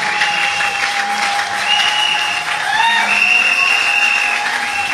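A church congregation applauds steadily and cheers for the name of Jesus, dense sustained clapping with raised voices and whistles throughout, close and loud.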